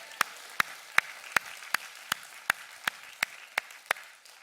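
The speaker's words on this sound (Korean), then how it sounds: "하나님께 영광의 박수 올리겠습니다." Clapping at a Korean church sermon: about eleven sharp, evenly spaced claps in a steady unison rhythm, roughly two or three per second, each distinct against a quiet room with no talking.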